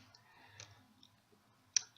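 Computer mouse clicking at a desk, a few light, close clicks spread over two seconds, with the sharpest click near the end.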